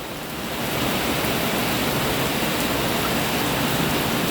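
Heavy rain pours down steadily during a flood at a house, a dense, loud, unbroken hiss that swells in the first half second and then holds constant, with no voices.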